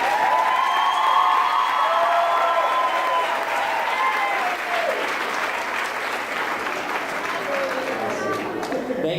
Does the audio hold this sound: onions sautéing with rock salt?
no